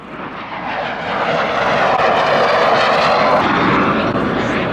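A Mikoyan-Gurevich MiG-15UTI 'Midget' jet roars past at Yeovilton Air Day 2017, its engine noise swelling from a loud rush to a sustained, powerful roar over several seconds.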